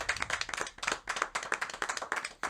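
A small studio audience claps for a guest on a French late-night show, with brisk, uneven hand claps in a steady burst close by and no voices over it.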